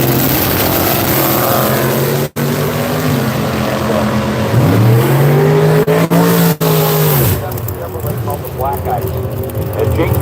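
A Chevrolet Vega drag car launches at Seattle International Raceway, its engine roaring loud and close with rising and falling pitch sweeps as it revs and pulls away, then the sound drops off toward the end.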